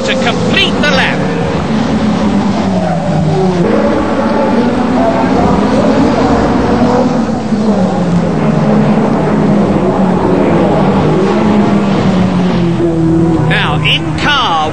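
Ford Sierra Cosworth RS500 touring car at racing speed on a British circuit, heard from inside: a loud, continuous engine roar rising and falling with gear changes, with a commentator talking over it.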